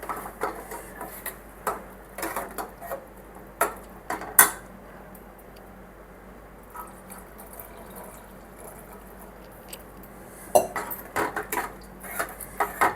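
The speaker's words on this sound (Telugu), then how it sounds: "పాలు అయితే దగ్గర పడేంత వరకు అయితే కలుపుకుందాం." A utensil stirs carrots in milk in a pan for bakery-style carrot halwa, striking the metal in sharp, irregular clinks and scrapes, close and clear, with a quieter stretch in the middle.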